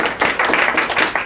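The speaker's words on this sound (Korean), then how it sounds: "박수 한번 주세요" Audience clapping at a sales training talk, a short burst of scattered hand claps with an uneven rhythm, fairly close and moderately loud, with no talk over it.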